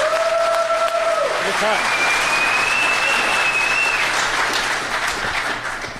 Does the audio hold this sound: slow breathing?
no